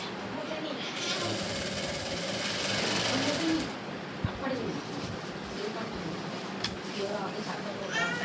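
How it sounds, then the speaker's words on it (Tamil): A sewing machine runs steadily while stitching an aari work blouse, its fast mechanical chatter continuous and close, with a few brief pauses and small clicks. "நான் இப்படி தான் நூல் கட் பண்ணாமல் தைப்பேன்."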